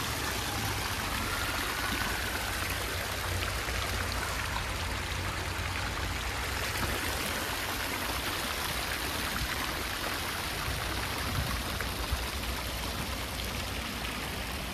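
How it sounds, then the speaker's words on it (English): Water flows steadily in a city setting in York, a broad continuous rushing and splashing that stays even and close without a break, with no voices. "The sound of water."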